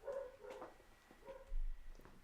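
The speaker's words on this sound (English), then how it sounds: "I think my dog heard my keys jangling and got a little freaked out." A dog gives a few short, faint whimpering yips and barks, reacting nervously to the jangle of keys; the sounds come in brief bursts, fairly close, with no voices.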